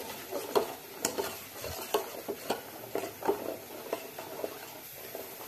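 Sugar being stirred into thickened milk for pumpkin halwa, a spoon tapping and scraping the pot in a quick, fairly regular rhythm over a faint simmering bubble, close and moderately quiet, with no voices.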